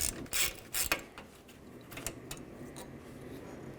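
A ratchet turns a 13 mm bolt on a 1999–2007 GMC Sierra during parking brake cable work, giving quiet, close clicking and mechanical rattles in short irregular bursts, a few sharper clacks early, then softer ticking.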